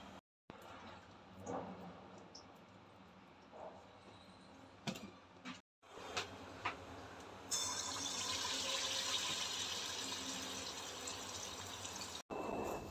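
Water pours onto a hand, at first in faint, broken splashes and then as a steady, louder rushing stream over the last few seconds. Nobody speaks.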